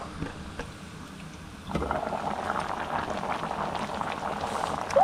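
Irish potatoes boiling in a pot bubble and gurgle, quieter at first and then a denser, louder churn after a thump, with faint clatter near the end.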